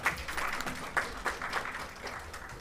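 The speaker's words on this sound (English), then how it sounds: "Please welcome her with a big round of applause" An audience at a National Science Day event claps moderately for a speaker being welcomed, a soft, scattered patter that stays fairly even and somewhat distant.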